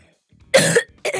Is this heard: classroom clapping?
no